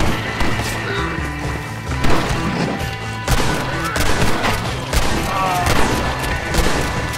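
Gunfire in the Red Dead Redemption video game: loud, dense rounds of shots and booming impacts crackle steadily through the whole stretch, with a voice speaking briefly in the mix.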